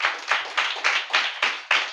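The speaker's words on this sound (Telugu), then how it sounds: "చప్పట్లు కొట్టు ప్రభువుకి." A congregation at a live Holy Communion service claps in an even rhythm, about eight sharp, loud claps in under two seconds.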